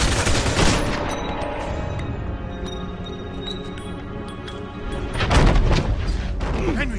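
Gunshots in the Mafia II video game, a burst of loud sharp shots at the start followed by quieter reverberating noise, then another heavy volley of gunfire near the end.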